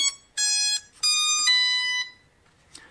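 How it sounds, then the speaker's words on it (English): Beeps from an MJX Bugs MG-1 drone remote controller signaling successful pairing: three loud, clear electronic tones in quick succession, each a bright harmonic beep lasting under a second, close by with no talking. "So you hear that beep from the remote indicating you did get a good pairing"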